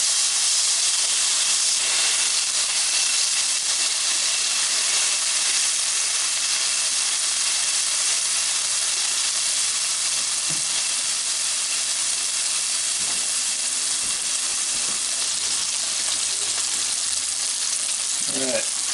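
A beef burger patty for a steakhouse burger sizzles steadily in a hot pan just after being flipped, a continuous loud hiss and crackle running throughout with a few faint knocks.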